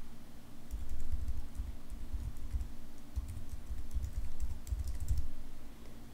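Quiet, rapid clicking of keys on a computer keyboard goes on in uneven bursts, close up, with no talking.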